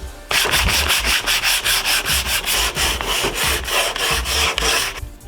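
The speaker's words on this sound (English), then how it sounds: "I think I'm gonna use 320 grit. I feel like that's just enough to scuff the surface so we can start painting" Hand sanding with 320 grit sandpaper scuffs Bondo on the front lip of an R32 GTR, a close, loud, rhythmic rasp of quick back-and-forth strokes repeating steadily about three times a second.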